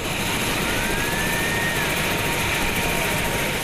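An air ambulance helicopter lands near the Yubileyny Sports Palace in Saint Petersburg, its loud, steady rotor and engine roar filling the whole stretch without letup, a thin rising whine riding over it.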